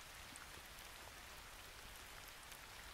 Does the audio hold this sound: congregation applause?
no